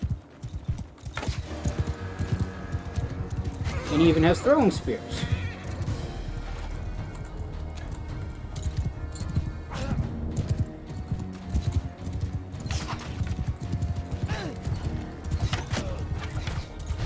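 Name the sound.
horse galloping in video game Mount & Blade II: Bannerlord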